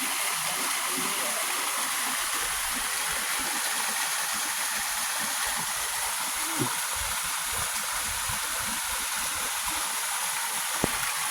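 Ling Fung waterfall and stream after a dry week, a constant broadband rush of falling and flowing water, close and steady throughout with faint low knocks underneath.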